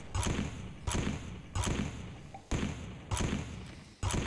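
Cannons fire in a Roblox pirate battle game, a series of about six dull, booming thuds spaced unevenly under a second apart, each decaying quickly.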